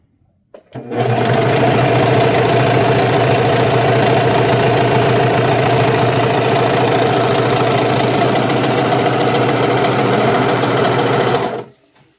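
A Brother 1034DX serger stitches fabric at a steady high speed. It starts abruptly, whirs and rattles continuously for about eleven seconds, then stops, loud and close, with no voices.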